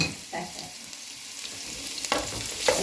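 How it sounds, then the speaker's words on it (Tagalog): Ginger sautéing in hot cooking oil for tinola, a steady close sizzle with occasional stirring scrapes. "Tapos inyong ilagay sa mantika, inyong gisa-gisahin."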